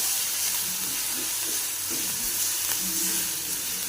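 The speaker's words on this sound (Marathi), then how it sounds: "लसूण, जिरे आणि आलं आहे ह्याच्यामध्ये हे टाकूया बघा असं. आणि ह्याला असं मस्त परतून घेऊया" Garlic, cumin and ginger sautéing in a hot pan, giving a continuous close sizzle and hiss with faint stirring scrapes throughout.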